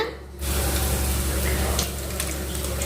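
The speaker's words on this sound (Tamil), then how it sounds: "இப்போ எல்லா ப்ரெட்டையும் இதில் போட்டு வறுத்து எடுத்துக்கலாம்" Bread slices frying in oil in a pan over a medium-low flame for bread halwa give off a steady, dense sizzle that rises suddenly after a brief quiet start and continues evenly.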